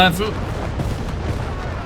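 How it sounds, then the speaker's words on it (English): Anti-tank guns and artillery firing in a Company of Heroes 3 desert battle, a sharp boom at the start followed by a rumbling, dense wash of distant gunfire under a voice. "anti-tank guns engaging Flokl's Panzerkampfwagen 3"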